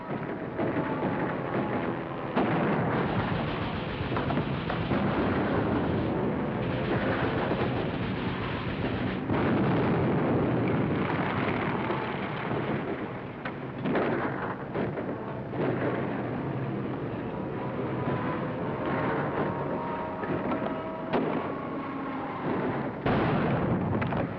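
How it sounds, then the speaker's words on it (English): A hand grenade blast tears through a powder house in a 1941 war film, setting off a long, continuous roar of rumbling explosions that rolls on loud and dense for the whole stretch. "Give me a hand grenade and stand clear."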